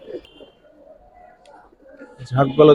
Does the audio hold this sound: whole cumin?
no